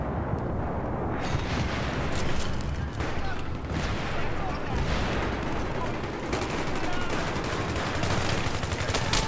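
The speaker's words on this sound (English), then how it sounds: "There's just too many shots going on." Dense, continuous gunfire and explosions fill a 64-player Battlefield 3 server match, with rapid overlapping shots and blasts sustained throughout at loud, close range.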